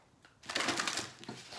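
A brief papery riffle of tarot cards being shuffled, close up, lasting about a second with a small tap at the end.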